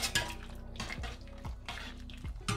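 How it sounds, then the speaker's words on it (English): A spoon stirs yarn dye in a container, giving a few quick clinks and scrapes against the sides over a soft liquid swish, close up with no voices. "Let's give it a good stir."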